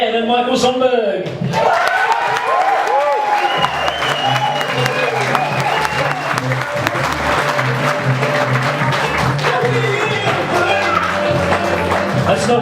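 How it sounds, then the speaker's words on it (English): Wedding guests at a reception applaud in sustained, dense clapping with cheers, while an amplified voice speaks over the crowd at the start. "The first people I'd like you to give a big warm round of applause for Diane and Michael Sonberg."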